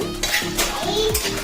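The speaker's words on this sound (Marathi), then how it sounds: "दालचिनी मोठी विलायची सोबतच भाजत आहे मी." Cinnamon and black cardamom dry roasted in a pan over low heat, giving a brief, fairly loud stretch of close scraping and rattling as the spices are turned.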